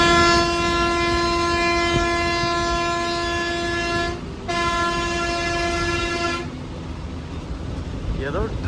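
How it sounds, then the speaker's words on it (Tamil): A bus horn that sounds like a train horn blares with sustained multi-tone blasts, cutting out briefly and then stopping, over constant road and engine noise on a bus ride between Cuddalore and Pondicherry. "ட்ரெயின் ஹாரன் அடிச்ச மாதிரி இருக்குங்க"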